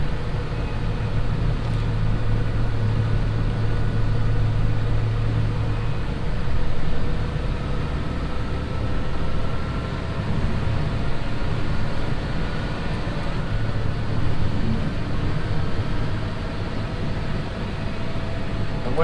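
A brand-new John Deere 6155M tractor on the road picking up speed, its steady low engine drone and rumble continuous throughout with slight swells in loudness as it accelerates.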